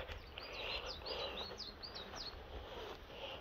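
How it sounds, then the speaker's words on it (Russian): Small birds chirp and tweet in a cedar forest, a scatter of quick, high calls repeating at a moderate distance over faint background hiss. "Провожают меня птички домой."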